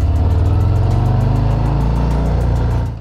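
A Harley-Davidson Fat Bob motorcycle rides with a steady, loud, deep engine rumble close by, holding a constant throttle before dropping away at the very end; no talking.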